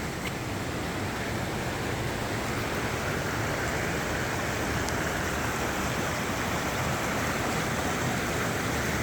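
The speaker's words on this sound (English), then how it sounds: "Nice, a waterfall." A waterfall along a coastal walk between Gilfach and New Quay gives a steady, hissing rush of falling water, even and unbroken, heard close with no voices.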